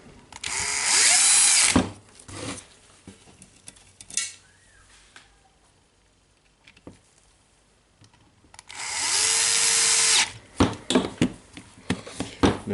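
A DeWalt 18V cordless drill drives screws into a ball bearing holder during a motor repair: two sustained, close whirring bursts, with clicks and handling noises between them.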